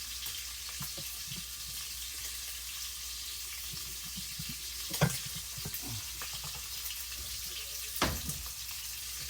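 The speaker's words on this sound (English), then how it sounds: "I'm going to turn on the water here" Kitchen water tap running in a steady, even hiss, with a few faint clinks and knocks on top, and no talk.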